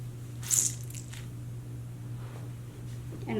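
Wet curly hair scrunched with a microfiber towel, giving a short squishy burst near the start and then softer, quieter rustling close to the mic.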